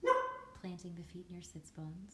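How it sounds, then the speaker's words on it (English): A dog barks once, loud and close, in a home yoga class, then the instructor's calm voice carries on alone. "Sorry about my dog."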